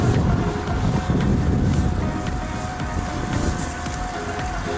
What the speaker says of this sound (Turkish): Arkadaşlar şiddetli rüzgar var.